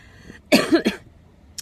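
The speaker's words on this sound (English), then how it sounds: "You know when you cough with mucus, I did that." A single close, wet cough with mucus in two quick bursts, followed by quiet.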